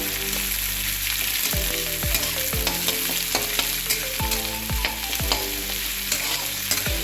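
Onions, broken up by hand, sizzle steadily in hot oil while a utensil scrapes and stirs the pan in repeated strokes, close and continuous, frying toward brown.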